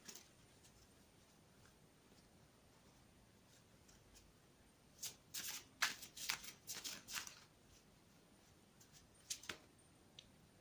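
Tarot cards are shuffled by hand in quiet surroundings, with a cluster of crisp riffling bursts in the middle and a couple more near the end, between long near-silent stretches.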